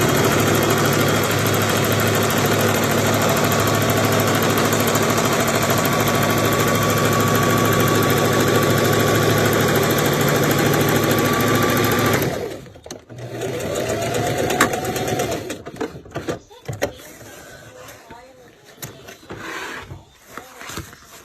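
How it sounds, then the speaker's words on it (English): A sewing machine stitches a pocket on eyelet leather pants, running in a loud, steady drone for about twelve seconds before stopping abruptly, followed by quieter handling noises. "And then you're going to stitch it all the way through."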